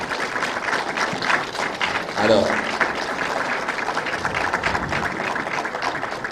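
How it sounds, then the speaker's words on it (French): An audience at a general assembly applauds in a steady wash of clapping that fills the hall, a louder swell near the middle, and a voice speaks briefly over the clapping. "c'est d'applaudir quand même le travail qui a été fait"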